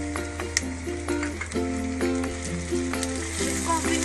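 Carrot, green chili and capsicum sauté in a hot pan, giving a steady close sizzle broken by sharp clinks of a spoon against the pan and stirring scrapes.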